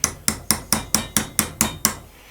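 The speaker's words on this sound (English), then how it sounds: "So now I should be able to tap this with a hammer." Eight evenly spaced metallic hammer taps on a snap ring on a John Deere STX38 lawn tractor, sharp and close with a short ringing decay after each strike.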